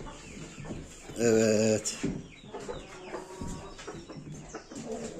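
Chickens and roosters on a Turkish farm, with one loud, close squawking call and scattered clucking from several birds around it, while someone says a brief word.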